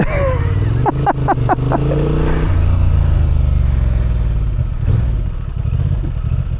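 A Honda Transalp 750 adventure motorcycle ridden at low speed, its engine droning steadily up close, with a few quick rhythmic revs and clattering early on before settling into a steady rumble.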